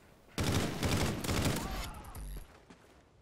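Video game gunfire erupts in a dense burst of rapid shots and explosions during a Gun Game match, loud and close for about two seconds, then fades into scattered shots and a low rumble.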